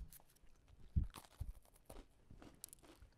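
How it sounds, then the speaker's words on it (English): A chocolate cream sandwich cookie, either an Oreo or a knock-off, bitten with one sharp crunch near the start and a second smaller one soon after. A brief crumbly chewing sound follows, close and fairly quiet, and no one speaks. "Sounds like we've got an authentic crunch on that one."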